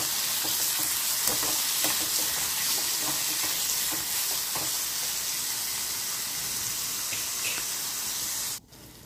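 Tomatoes fry in a pan with a dense, crackling sizzle and repeated stirring scrapes, close and steady until the sound cuts off abruptly at the end.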